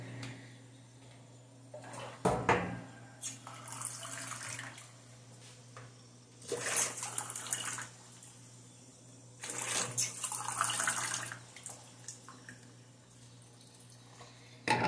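Tap water runs over homemade cheese as it is rinsed to wash off salt, coming in several separate splashing bursts of a few seconds each with quieter pauses in between.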